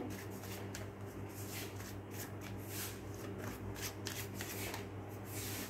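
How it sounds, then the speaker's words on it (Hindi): Tarot cards slid and shuffled from a deck, a steady soft papery riffling and rubbing that runs throughout, quiet and close, over a low constant hum. "चलिए मैं इस डेक से कुछ कार्ड्स लेना चाहूंगी, टैरो डेक से"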